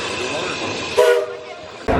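The Big Thunder Mountain Railroad coaster train at Magic Kingdom rumbles and clatters close by, with a brief whistle-like tone in the middle before the rolling noise returns.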